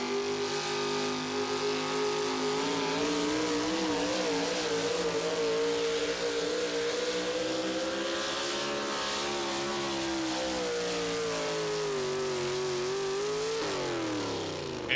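Four-play Chevrolet pulling vehicle roaring under load at an NTPA tractor pull in Tomah, Wisconsin, its engine holding a loud, steady, slowly climbing howl for the whole run before dropping off near the end.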